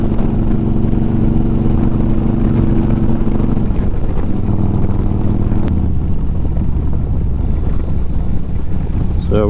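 A built 2009 Harley-Davidson Road Glide motorcycle runs at speed, its loud V-twin engine a deep throbbing drone with a pitch shift partway through, close and continuous with wind noise, and a rider speaking over it.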